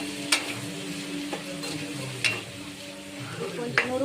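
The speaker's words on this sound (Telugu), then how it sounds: "అల్లం పేస్ట్ ఎక్కువ వేసి కొంచెం వేగాక" Ginger paste frying in a pan: a steady close sizzle with sharp scrapes from stirring at irregular intervals.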